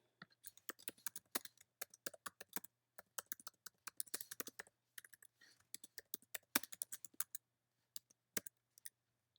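Quick bursts of keystrokes on a computer keyboard, close and quiet, come in uneven runs with short pauses, as when text is entered into an online form.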